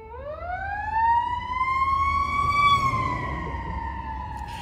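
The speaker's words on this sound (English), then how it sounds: "You hear the ambulance, don't you?" A single wailing ambulance siren rises in pitch and holds, then slowly falls, loud and fairly near over low traffic rumble.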